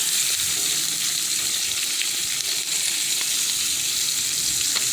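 Chicken thighs sizzle steadily in a pan, a dense, loud, continuous crackle of hot fat with faint scraping now and then and no voices.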